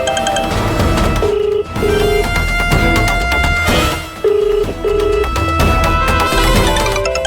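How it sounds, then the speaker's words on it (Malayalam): A mobile phone rings loudly in a home scene from a Malayalam TV serial, repeated electronic ring bursts over a busy music-laden background. "എടാ നിന്റെ ഫോൺ അടിക്കുന്നതാ"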